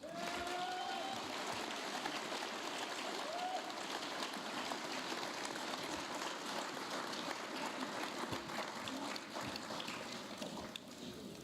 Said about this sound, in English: Oh, go on, keep clapping